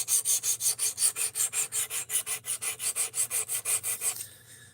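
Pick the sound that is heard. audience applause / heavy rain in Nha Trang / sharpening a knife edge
sharpening a knife edge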